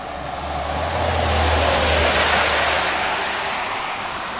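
A car passes nearby on the road, its tire and engine roar swelling to a peak and then slowly receding, with no voices.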